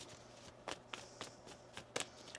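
Tarot cards being shuffled by hand, a few soft riffling bursts spaced irregularly over quiet room tone, close and fairly faint.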